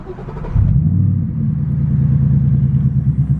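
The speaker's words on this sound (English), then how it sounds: "we want to turn the vehicle on" A manual-transmission car engine cranks and catches, then settles into a steady low idle rumble, close and fairly loud.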